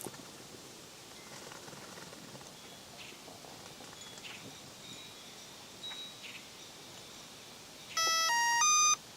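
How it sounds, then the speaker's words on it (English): Near the end, a quick series of electronic beeps from a Traxxas Spartan RC boat's speed controller steps downward in pitch, following a stretch of faint background hiss with occasional soft clicks. "And you can hear the beeps go down."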